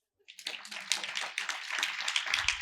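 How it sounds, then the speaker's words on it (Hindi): Church congregation at a Friday sermon clapping for themselves, a burst of fairly close, dense hand claps starting after a brief silence and continuing steadily to the end. "अपने लिए तालियां बजाओ।"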